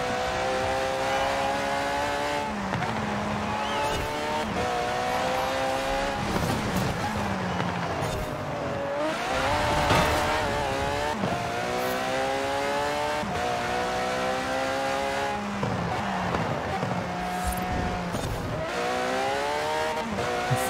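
A car in Forza Horizon 4 drives and accelerates hard, its engine revving up and down through repeated gear changes with tire noise, loud and continuous for the whole stretch.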